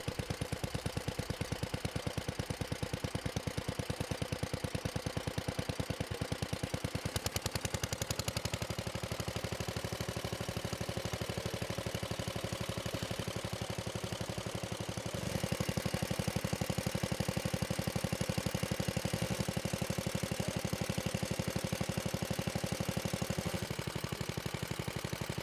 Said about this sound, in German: Petter ist der Hersteller, der diese Motoren für das englische Heer und Marine herstellte.